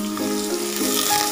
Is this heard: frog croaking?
no